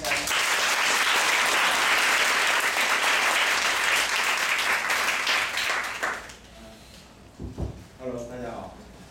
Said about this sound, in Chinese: 掌声来欢迎朱先生。